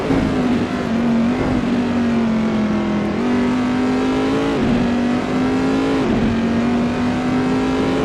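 Race cars lapping Bathurst in Assetto Corsa, a loud, sustained engine howl with rising and dropping revs through gear changes, close and continuous without speech.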